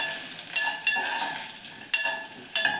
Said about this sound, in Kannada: ಇದು ಸ್ವಲ್ಪ ಹಸಿ ವಾಸನೆ ಹೋಗೋವರೆಗೂ ನೀವು ಹುರಿಬೇಕಾಗುತ್ತೆ ಬೆಳ್ಳುಳ್ಳಿನ